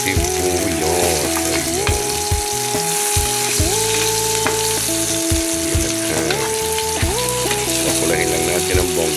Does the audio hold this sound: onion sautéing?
yes